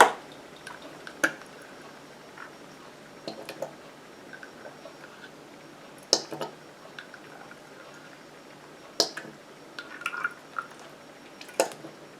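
Fragrance oil falls from a pipette into melted wax in a series of soft, close drips and small splashy ticks, spaced irregularly a few seconds apart over a quiet background.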